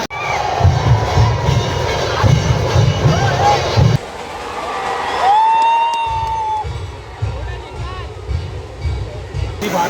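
Huge crowd at a Ganesh idol arrival procession in heavy rain, a loud sustained roar of cheering and shouting children with whoops, rhythmic drumming underneath, and voices speaking nearby.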